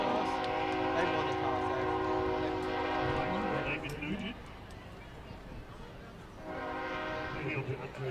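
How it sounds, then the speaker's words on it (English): A train passes close to an outdoor football field during the coin toss, its horn sounding as a loud sustained harmonic blare that drops out mid-clip and returns, with rumbling rail noise beneath. "I don't know if you guys can hear the train, but that's all I can hear is the train"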